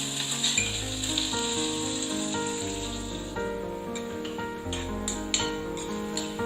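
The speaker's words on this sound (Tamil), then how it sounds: "இப்ப லோ ஃப்ளேம்லயே வச்சுட்டு நம்ம பூண்டை ஃப்ரை பண்ணி எடுக்கலாம்" Crushed garlic fries in a pan over a low flame, giving a steady, close sizzle that runs the whole time with a tonal hum in the background and no talking.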